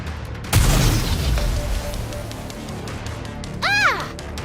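In the video game NIKKE, a homemade explosive goes off with one sudden loud boom, followed by a rumbling decay and a second, brighter burst near the end.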